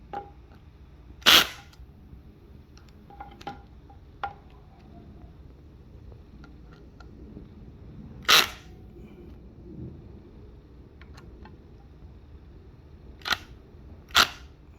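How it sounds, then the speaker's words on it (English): Sharp, isolated clicks and clanks ring out while bolts are tightened on a Yume M11H electric scooter, with a handful of loud snaps spaced seconds apart and softer taps between them in a quiet room. "just going through and making sure these are all tightened up"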